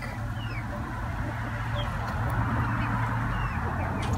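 Chickens calling in a steady outdoor scene as they eat guinea grass seeds, low clucks and honking sounds continuing throughout over a constant background hum.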